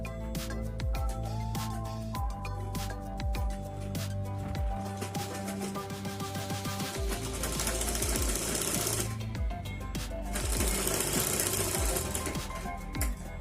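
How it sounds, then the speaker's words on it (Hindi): Sewing machine stitching the back boat neck of a blouse, running in a steady continuous whir with mechanical clatter alongside a constant musical background throughout. "अब हम यहाँ से सिलाई डालेंगे।"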